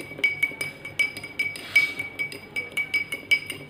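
A metal spoon clinks repeatedly against a glass while stirring rock salt into water, giving close, bright, rhythmic taps with no talking.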